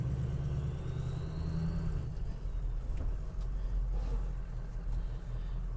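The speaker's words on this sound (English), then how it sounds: "Let me pull this forward a little bit so I can test the four-wheel drive." A 2003 Ford F250 diesel pickup rolls forward with a steady low engine rumble, close and continuous, the tone shifting slightly midway as it moves.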